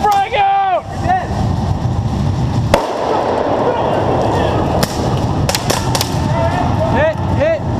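An airsoft grenade goes off during close-quarters play in a mock city, with a sharp, loud blast cutting through the noise, followed by further snapping pops while players shout nearby.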